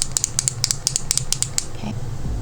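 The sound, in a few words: clicking up NYX Fat Oil Slick Click lip balm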